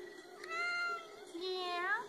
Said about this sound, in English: Did she meow?